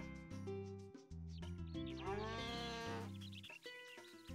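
A cow in the video game Harvest Moon: A Wonderful Life lets out a drawn-out moo over a layer of steady game music tones.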